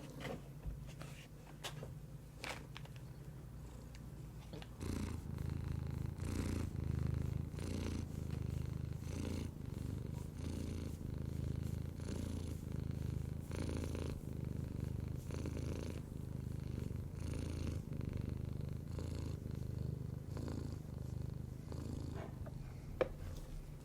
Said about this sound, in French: En plus, c'est une machine à ronron